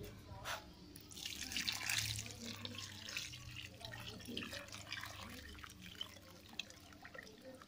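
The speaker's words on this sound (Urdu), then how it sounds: "تو اب ہم اس کو پانی دیں گے" Water is poured onto a potted pomegranate plant, giving faint splashing and trickling under a low steady hum, with a soft gush early on.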